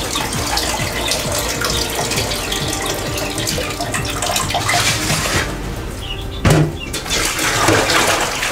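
Water pours and gushes steadily from soaked straw pellet bedding, a loud continuous splashing flow with a short break and a louder splash near the end.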